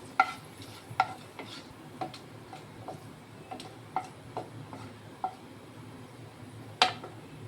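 Dried red chillies and garam masala tempering in a pan for aloo dum, stirred with a utensil: light, irregular clinks and taps over a faint low sizzle, close up.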